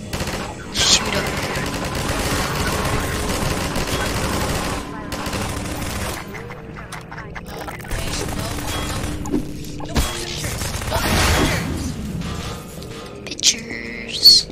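Bursts of gunfire from shooting in a Half-Life 2 co-op match in Garry's Mod, dense rapid firing with crashes and impacts throughout, loud and close, with occasional talk.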